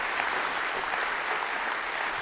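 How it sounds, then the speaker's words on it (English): A church congregation applauds during an Easter Sunday service, a dense, steady wash of many hands clapping together at even loudness for a couple of seconds, with no speech over it. "That's worthy of applause."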